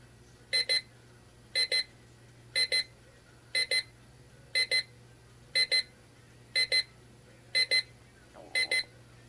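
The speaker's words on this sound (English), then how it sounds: "And there is your alarm, just like that." An XREXS Wi-Fi large digital clock's alarm ringing in a quiet room, nine evenly spaced pairs of short, bright electronic beeps repeating about once a second over a low steady hum.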